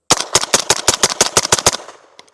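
Rapid string of loud, close gunshots from a MAT9 roller-delayed pistol-caliber carbine firing subsonic Freedom Munitions rounds outdoors, about ten sharp reports in quick succession, then a brief pause and a couple more shots.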